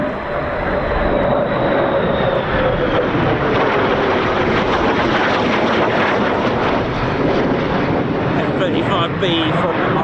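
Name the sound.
F-35B fighter jet flying at RAF Fairford air tattoo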